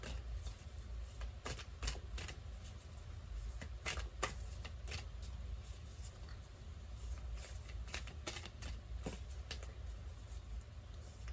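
Tarot cards shuffled by hand during a reading, a steady papery riffling and slapping that runs throughout at close range, with sharp flicks and bursts scattered across it and no talk.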